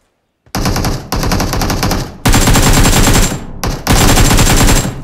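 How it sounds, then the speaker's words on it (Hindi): Sustained automatic gunfire in the mobile battle royale BGMI, loud and close, coming in long rapid bursts separated by brief pauses. "मैं कवर फायर देता हूँ"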